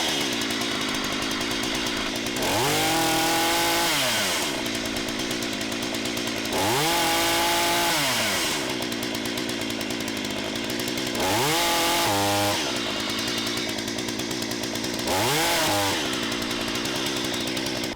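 A Hyundai chainsaw runs steadily at idle, its engine revving up to a loud high whine four times as the trigger is squeezed and released, then dropping back to idle each time, with no talk.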